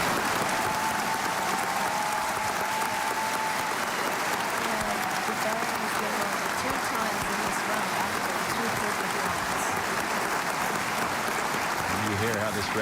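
A record crowd at the Scripps National Spelling Bee finals cheers a competitor with steady, dense applause that runs the whole stretch at an even level, with faint voices mixed into the roar.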